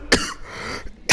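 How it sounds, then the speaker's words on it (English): Two sharp, loud coughs from a man, one near the start and one at the end, separated by a brief quieter stretch of room tone. "Sorry, I've been having a cough."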